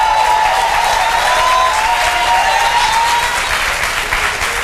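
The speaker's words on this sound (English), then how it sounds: "Give yourselves a round of applause." Sustained applause from staff at a Department of Social Services all-employee meeting, a full, even roar of many hands clapping that stays loud and tapers slightly near the end.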